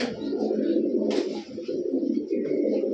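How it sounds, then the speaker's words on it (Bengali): Military-coloured pigeons coo softly and continuously at close range, a low rolling purr with a brief flutter or scuffle near the middle. "কবুতরগুলো দেখেন"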